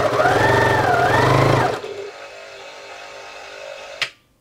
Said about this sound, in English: I can sew and wind a bobbin at the same time